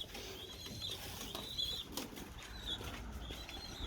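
A pigeon on a terrace flaps its wings in short, faint fluttering bursts, with soft rustling and light bird sounds around it.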